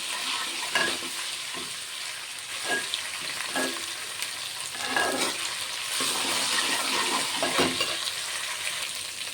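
Ginger garlic paste fries in a pan while home-cooked chicken biryani is being prepared, giving a steady close sizzle with intermittent stirring scrapes and clinks throughout, with no talking.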